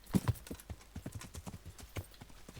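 Horse hooves clip-clop in quick, uneven steps in Kingdom Come: Deliverance, fairly close and clear, with a louder pair of strikes near the start and no talking over them.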